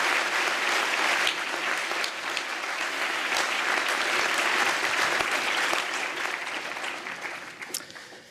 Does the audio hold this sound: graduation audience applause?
yes